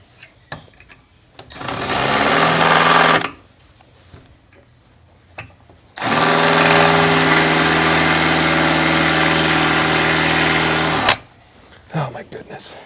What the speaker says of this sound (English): That drill bit doesn't sound very sharp at all